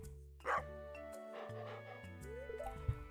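Dusty the dog barks in the Stardew Valley video game: two short yaps, one early and one at the end, over steady, sustained game music.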